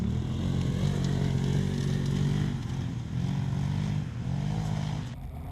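Polaris off-road racing vehicle on an Ilfracombe rally course, its engine droning loud and close with steady revving and slight rises and dips in pitch throughout.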